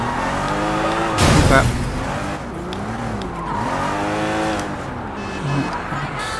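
Street racing cars skid through a turn in the video game Sleeping Dogs, with a loud burst of tire squeal and scraping rising over a steady engine drone while someone talks throughout.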